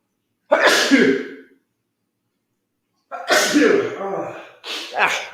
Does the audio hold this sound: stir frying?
no